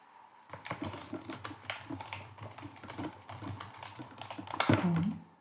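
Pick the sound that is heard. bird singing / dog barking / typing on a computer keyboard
typing on a computer keyboard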